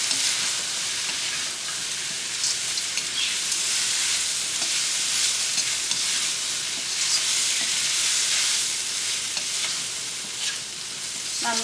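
Ginger chicken fries over high heat with soy and chilli sauce, a continuous loud sizzle and hiss with scraping from steady stirring in the pan, no talk.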